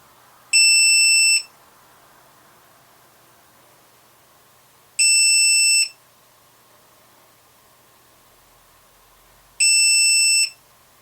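A Full Speed RC Lucky Box lost-model beeper on a drone sounds three loud, piercing electronic beeps, each just under a second long, spaced roughly four seconds apart over a faint background hum.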